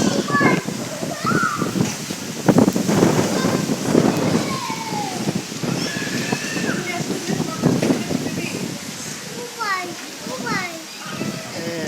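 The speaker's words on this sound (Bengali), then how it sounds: "কি বাতাস স্টার্ট হয়েছে" Wind roars and gusts steadily across the microphone while children shout and chatter over it.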